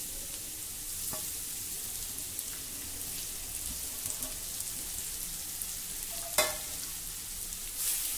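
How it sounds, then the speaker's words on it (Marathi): Grated sweet potato sautés over a low flame in a pan, giving a steady soft sizzle with occasional scrape and clink of the stirring spoon, one louder knock near the end; no talking. "मंद गॅसवर आता आपल्याला हा व्यवस्थित परतवून घ्यायचा आहे"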